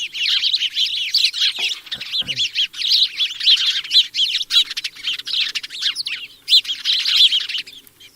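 Small birds singing in bushes and hedgerows, with a busy stream of high chirps and trills overlapping close by and a couple of soft low thumps, no voices.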